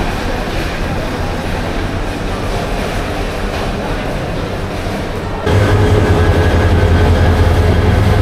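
Loud, continuous rumble of the Brahmaputra Express train in Bangladesh, a dense roar that suddenly shifts to a deeper, louder drone with a steady humming tone partway through.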